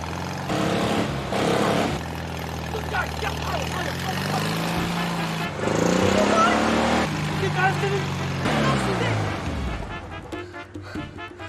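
Car engine revving as the driver accelerates, stuck in mud, a rising and falling motor drone that swells and cuts off, heard under excited voices talking.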